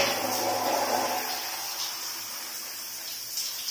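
Strong household shower spraying under boosted water pressure, a steady broadband hiss of running water that stays loud and even throughout with no voices.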